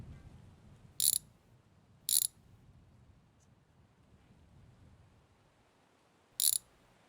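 A wrench undoes the fastening of a car's side mirror in three short, sharp ratcheting bursts, two close together and one a few seconds later, over a quiet background.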